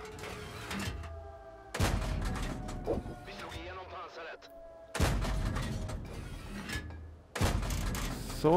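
Tank cannon fire in World of Tanks from the Strv m/42-57 comes as three loud booming shots with mechanical reload clatter between them, while someone commentates in German.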